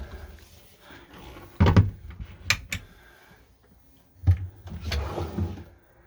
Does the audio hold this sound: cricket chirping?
no